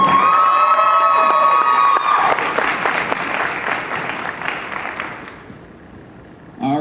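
Audience applause and cheering at a cosplay competition stage show, a loud dense crowd roar with whoops and shouts over steady clapping, fading gradually toward the end.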